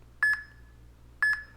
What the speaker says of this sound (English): The double beep indicates there are 10 seconds remaining.